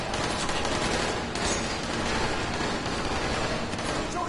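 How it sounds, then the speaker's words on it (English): Sustained gunfire in the video game Dying Light, a character firing continuously at a wall, a steady dense roar of shots throughout with no pauses. "He just started shooting the wall"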